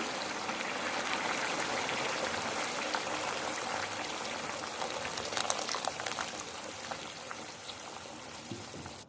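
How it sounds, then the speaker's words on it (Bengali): Boiling water is poured into a pot of fried rice for a quail egg biriyani, making a steady, close hissing rush of liquid that continues without pause. "এবার আমি ফুটন্ত গরম পানি দিয়ে দিচ্ছি।"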